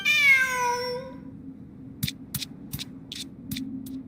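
A cat in a video game gives one long, clear, descending meow up close, then a series of short, sharp, spaced ticks and clicks follows over a low background hum.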